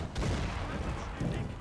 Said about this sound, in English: the Prussians advance into murderous cannon fire